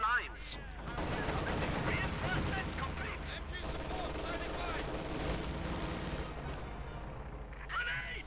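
Rattling bursts of MG42 machine gun fire mixed with other battle gunfire and explosions in the video game Company of Heroes 2, sustained and mid-distance, under a commentator's talk.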